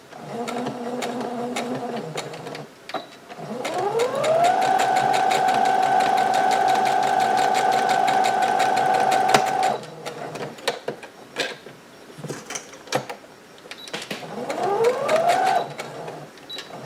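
A sewing machine stitching right along the edge to close a hem on a pouch, its motor whirring up into steady runs of rapid needle clatter, stopping and restarting, with faint talk between runs.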